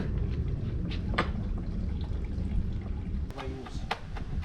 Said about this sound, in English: Wash them pimento seed quick.